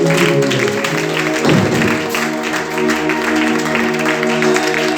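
A church congregation applauds in acclamation of Jesus, loud sustained clapping filling the room, with a sung or spoken voice carrying through underneath.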